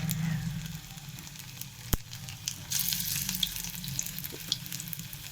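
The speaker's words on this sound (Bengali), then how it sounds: "তো দেখো, আমার তেলটা গরম হয়ে গেছে, এক এক করে আমি ছাড়বো" Capsicum fritters sizzling in hot oil, a steady broadband crackle and hiss throughout with one sharp knock near the start, heard close with no talking.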